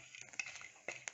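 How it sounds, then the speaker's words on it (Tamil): Long pepper fries in ghee in a clay pot while being stirred, giving faint soft scraping and light clinks in short irregular bursts, close but quiet. "ஒரு 2 minutes நல்லா ஃப்ரை பண்ணிக்கோங்க."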